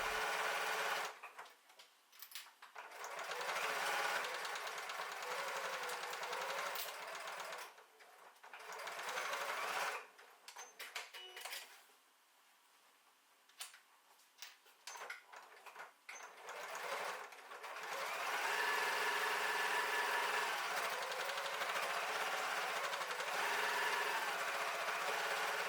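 A sewing machine stitches tote bag pieces together with a 1.5 cm seam, running in a fast steady whir for several long stretches with brief pauses between, close up and without talk.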